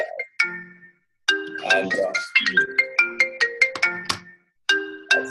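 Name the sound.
phone ringtone on an Apple phone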